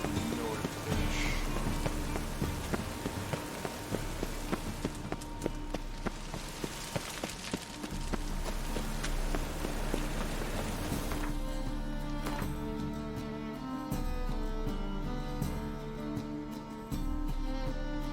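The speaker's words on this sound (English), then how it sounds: "It just rains and rains." Rain in The Witcher 3 falls steadily as a soft, continuous patter on surfaces, with faint footsteps and quiet ambient music underneath, gentle and even throughout.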